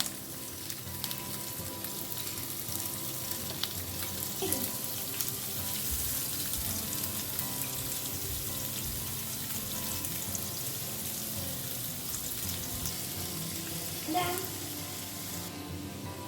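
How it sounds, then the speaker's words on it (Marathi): Prawns fry in a pan over a medium flame with a continuous, even sizzle that holds at moderate loudness throughout, with no voices. "हांगासर आमकां एक 10 मिनटां फ्राय करूंक जाय."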